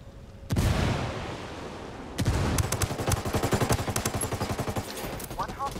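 A grenade explosion followed by sustained gunfire in a special-operations shooter video game: a loud blast, a second burst, then rapid rhythmic shots over several seconds.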